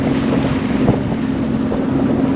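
Wind buffets the microphone aboard a Catalina 387 sailboat at sea off Myrtle Beach, a loud steady rumbling roar with a low hum and faint water wash beneath, no voices.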